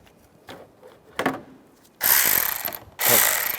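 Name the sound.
tightening a nut on a stud with a ratchet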